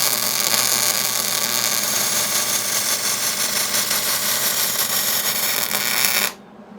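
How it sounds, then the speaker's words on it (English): Steady arc welding crackles and buzzes continuously on flat steel stock for a compact tractor tooth bar. The moderately loud sound runs for about six seconds and then stops abruptly, with no voices. "So now all we need to do is weld it up."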